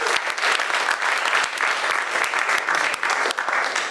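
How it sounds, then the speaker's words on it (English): Dense, steady applause from a comedy theater audience at a sold-out anniversary show fills the room, loud and close, with no talk over it. "Please give yourselves a round of applause."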